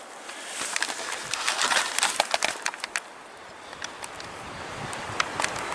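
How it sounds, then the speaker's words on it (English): Strong gusty wind buffets the microphone on a mountain hillside, with sleet ticking and spitting in brief scattered bursts, loud and close with rising and falling surges. "It's still blowing quite hard now and still spitting"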